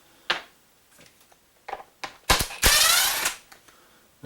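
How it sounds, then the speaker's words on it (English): Cover bolts being removed from a STIHL FS 70 R string trimmer, scattered sharp clicks and ratcheting ticks followed by a loud burst of a power driver spinning, close and without talk. "I'm going to go through here and start removing all these cover bolts"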